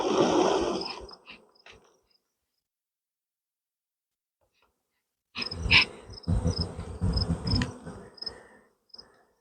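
Honey bees buzz around a hive, loud and close in two bursts split by a long silent gap, with the second burst steadier and busier.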